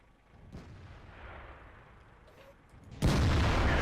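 A World of Tanks tank cannon fires once, a sharp booming blast near the end of the clip that stays loud, following a quieter rumbling battlefield background.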